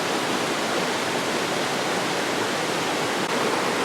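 A mountain stream rushes past a hiking trail crossing on Doubletop Mountain in Katahdin, producing a steady, loud, broadband wash of flowing water that stays even and close throughout with no voices.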